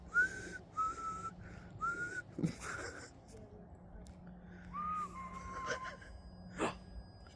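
A person whistles short, repeated tonal notes, then a longer gliding whistle, with breaths and soft background noise between phrases.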